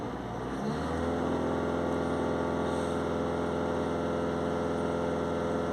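A Peugeot Boxer 2.0 HDi diesel engine starts and settles into a steady, loud idle hum, running alone with no talk over it.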